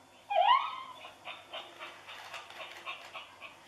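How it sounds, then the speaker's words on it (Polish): Chi Chi Love plush toy dog giving a loud whine at the start, then a run of soft, rhythmic whimpering yelps that repeat steadily nearby. "Tak skomle jak prawdziwy piesek,"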